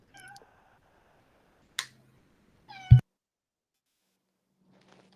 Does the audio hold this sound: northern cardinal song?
no